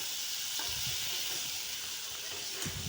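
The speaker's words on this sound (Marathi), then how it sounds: "आपला कांदा भाजत आला आहे हे पहा मी मटार पण टाकून घेते" Onion and peas sautéing in a pan while making matar poha, giving a steady broadband sizzle and hiss throughout with a few soft stirring knocks, close and continuous with no talk.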